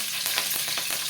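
Mustard seeds and curry leaves fry in hot oil, making a dense, close sizzle with faint popping and stirring scrapes throughout a short burst.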